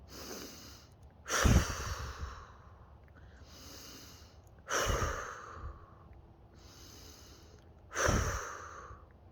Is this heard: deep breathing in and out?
yes